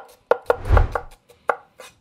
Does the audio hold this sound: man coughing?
no